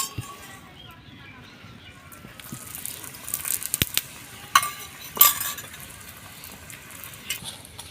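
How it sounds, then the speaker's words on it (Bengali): A triangle-folded paratha frying in a pan and pressed with a spatula, a low steady sizzle broken by several sharp scraping and tapping clatters midway, with faint background sounds. "আর একটা ভেজে নিলে আমাদের পুরো পরোটা ভাজা কমপ্লিট হয়ে যাবে"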